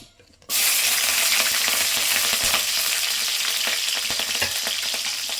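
Green chillies crackle and sizzle loudly in hot oil in a pan, starting abruptly after a brief quiet moment and continuing as a dense, steady frying hiss with small pops.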